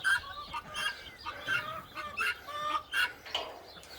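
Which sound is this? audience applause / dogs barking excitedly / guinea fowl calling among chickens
guinea fowl calling among chickens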